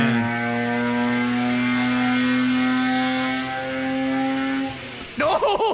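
A 250 horsepower car engine with a cold air intake revs on a dyno, producing a loud, sustained droning tone that holds steady, dips slightly, then breaks into a rising and falling rev at the end.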